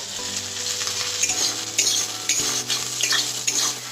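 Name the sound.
carrots and peas frying and being stirred in a pan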